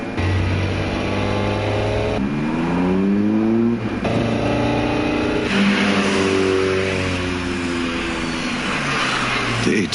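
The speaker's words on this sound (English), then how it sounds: "The 8-6 sounds different than last time." A Toyota AE86 engine revving hard on a mountain road, the pitch climbing through the gears in repeated rising sweeps, loud and close, with whine and exhaust roar layered together.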